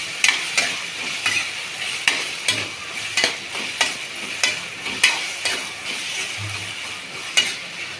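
Chicken curry stirred in a pan: rhythmic spoon scrapes repeating about every half second over a soft steady sizzle, close and clear with no voices.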